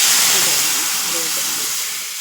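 Mixed liquid poured into hot tempering oil with mustard seeds and curry leaves for a chickpea curry gives a loud, steady hiss that slowly fades toward the end.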